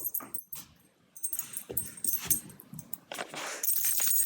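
A dog whimpers and lets out short yips near a repaired dog bed indoors, with soft, irregular, close cries separated by brief quiet gaps and faint rustling.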